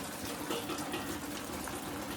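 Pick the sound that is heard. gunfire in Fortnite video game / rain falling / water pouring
water pouring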